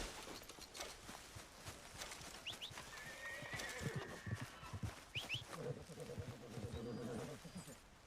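A horse in Red Dead Redemption 2 whinnies twice over steady clip-clopping hooves, the neighs standing out clearly above a busy game soundscape, with no talk.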